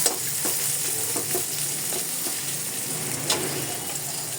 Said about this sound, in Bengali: দিয়ে দিলাম পেঁয়াজ রসুন কাঁচা লঙ্কা। এগুলো এখন লাল লাল করে ভাজি করে নেব।